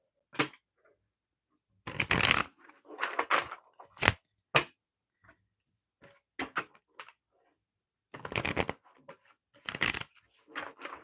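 Oracle or tarot cards being handled and shuffled, a series of short, close riffling and flicking bursts separated by quiet gaps, moderately faint and without talk.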